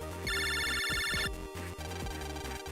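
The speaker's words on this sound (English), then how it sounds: "It's a phone call." A phone rings in the Mega Man Battle Network game, a bright electronic ring pattern that repeats for about a second and sits over looping background music.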